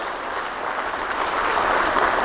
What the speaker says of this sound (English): Can we please give a big warm round of applause for all of the speakers who made this such a great day.